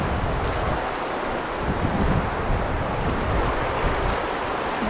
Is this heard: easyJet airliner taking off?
no